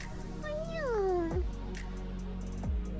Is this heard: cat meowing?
yes